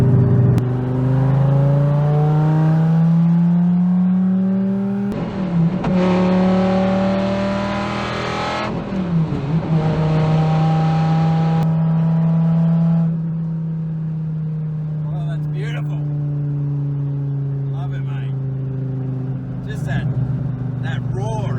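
A 2016 Dodge Viper ACR engine roars and revs, rising and falling in pitch, with loud rumbling throughout and brief gear changes.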